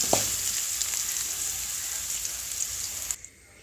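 A tablespoon of grated coconut roasting in a pan with spices for a Karkidakam curry, a dense close sizzle crackling steadily for about three seconds before cutting off abruptly.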